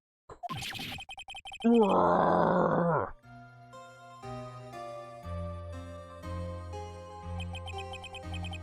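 A shrill, sustained scream from the Phoenix Wright: Ace Attorney video game rings out loudly for about a second and a half, framed by brief sharp sound effects and followed by steady game music.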